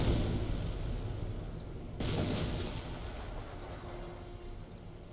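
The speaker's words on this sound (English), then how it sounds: "And just a bit more artillery coming down." Company of Heroes artillery shells land in a low, muffled barrage, with a sharp boom near the two-second mark and a rumbling tail that fades away, heard at a distance with no talking.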